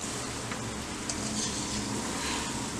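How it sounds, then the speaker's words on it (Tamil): Bonda fritters fry in hot oil, giving a dense, even, close bubbling sizzle that runs on steadily without talk. "இதே மாதிரி மீதி இருக்கிறது எல்லாத்தையும் எண்ணெயில போட்டு ஃப்ரை பண்ணி எடுத்துக்கலாம்"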